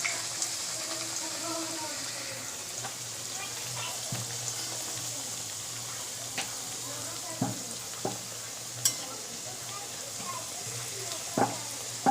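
Chana and sattu kachori, made from a mix of wheat flour and refined flour, fry in hot oil with a steady bubbling sizzle. Soft scrapes and a few sharp clicks break in now and then.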